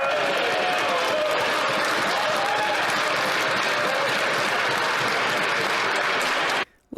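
Members of Parliament cheering and applauding in the House of Commons, a sustained dense roar of clapping and voices that stops abruptly just before the end.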